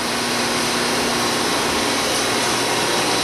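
A Wit-O-Matic 500 tool grinder runs in a machine shop, grinding a tool with a hole in it. It gives off a loud, steady broadband whir that stays constant from start to finish.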